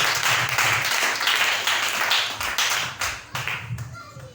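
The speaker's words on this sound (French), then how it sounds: "On acclame le Seigneur." A church congregation applauds in a dense, close burst of clapping that lasts a few seconds and thins out toward the end.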